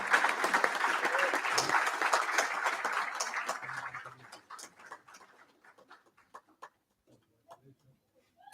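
A small audience claps for a winning team at an AI and digital learning event in The Gambia. The clapping starts dense and lively, then thins into scattered claps that fade out.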